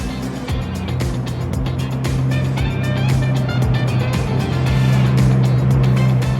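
A Ferrari F40 engine drones steadily while the car is driven, a loud close rumble with rhythmic pulsing and rising revs, heard from inside the cabin.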